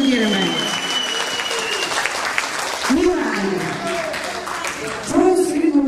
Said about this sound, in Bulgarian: Пляскайте му всички! Нека да го аплодираме!